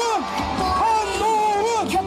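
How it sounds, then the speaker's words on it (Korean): Political rally crowd in Sejong cheering and whooping, with swelling shouts and voices rising and falling for a couple of seconds, loud and close. "큰 박수와 함성 부탁드립니다"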